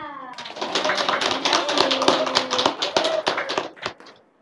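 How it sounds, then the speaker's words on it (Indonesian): A school audience claps together, a burst of many hands that swells and then tapers off, fairly close and loud. "Beri tepuk tangan buat Bu Anissa."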